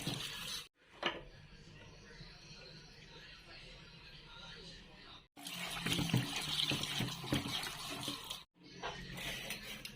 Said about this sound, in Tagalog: Hugasan muna natin.